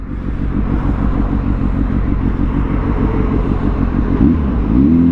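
A 2023 Kawasaki Z H2 supercharged motorcycle putts along at low revs, its loud, steady pulsing exhaust thrum close and alone, ending with a short rise in engine pitch near the finish.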